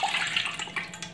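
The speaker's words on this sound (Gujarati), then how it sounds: "તો આમ આપણે 2 બાઉલ પાણી લઈ લઈશું" Water pours into a large cooking pot in a home kitchen, a short steady splashing stream heard close and fairly quiet.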